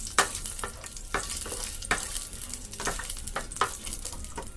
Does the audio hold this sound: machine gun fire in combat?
no